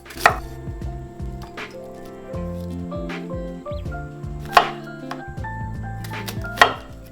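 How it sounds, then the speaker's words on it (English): A knife slices an onion on a cutting board, sharp, crisp thuds landing every second or two over soft background music. "Slice 1/4 of onion for broth."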